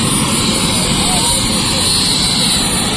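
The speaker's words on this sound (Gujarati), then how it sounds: "મિત્રો હેલિકોપ્ટર લેન્ડિંગ થઈ ગયું છે" A helicopter landing at a wedding celebration, its engine and rotor roar loud and steady throughout at close range, with no pause.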